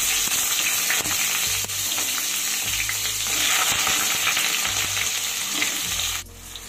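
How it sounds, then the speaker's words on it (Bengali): Cut eggplant frying in very hot mustard oil in a wok, a loud, steady, close sizzle with stirring knocks, easing off slightly at the end. "আর তেলটা কিন্তু খুব ভালো গরম হয়ে গেছে। এবার আমি কেটে রাখা বেগুনগুলো দিয়ে দেব।"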